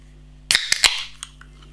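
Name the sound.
opening a can of Tanker Hallucination Imperial Lager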